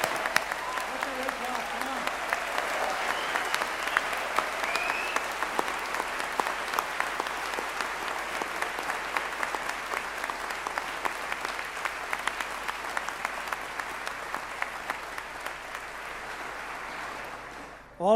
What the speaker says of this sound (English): So come on, let's give you another round of applause.